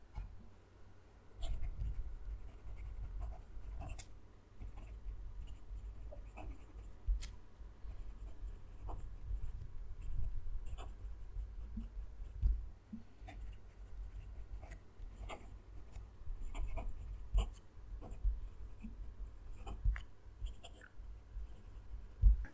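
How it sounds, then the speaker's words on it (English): A Jinhao fountain pen nib scratches across paper in close, quiet strokes. The writing runs steadily for over twenty seconds with small taps and a low background rumble. "Then I move the mic down to the page so you can hear the pen write."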